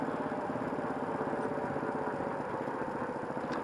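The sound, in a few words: motorcycle muffler exhaust noise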